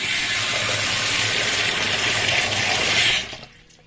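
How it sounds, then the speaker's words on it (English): Egusi seeds being washed for egusi soup, with water running and splashing loudly and steadily, as from a tap into a bowl, before cutting off abruptly near the end. "So now it's time for me to wash my egusi."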